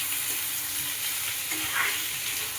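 Potato curry with coriander being stirred in a pan, giving a steady close sizzle and fry with soft scraping stir sounds throughout, no voices.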